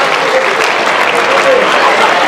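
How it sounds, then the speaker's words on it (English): Students at Morgan High School applaud steadily as a group, a dense, even wash of clapping that holds at full strength for the whole stretch with no pauses. "So please give them a round of applause, and let's welcome them out here."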